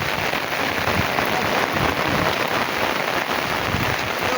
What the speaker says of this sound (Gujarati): વરસાદ બંધ થવાનું નામ જ નથી લેતો.